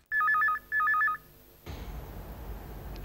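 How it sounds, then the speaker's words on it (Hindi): A telephone rings twice in quick trilling bursts, loud and close, then stops, leaving a soft background hiss. "अरे फोन बज रहा है, उठा ले।"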